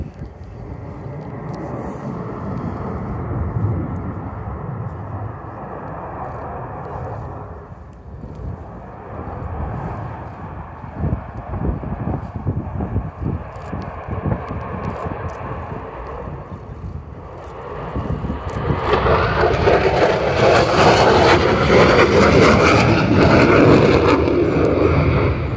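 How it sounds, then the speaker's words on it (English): A Ukrainian Air Force Sukhoi Su-27 fighter jet at an air show roars past with a loud, sustained engine rush that swells and brightens toward the end, mixed with wind buffeting on the microphone. "This Su-27, one of about 35 still operational with the Ukrainian Air Force."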